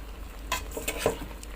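Chicken and noodles for an Isan om gai curry are stir-fried in a pan, giving a few quiet scrapes and a light sizzle over a low background hum.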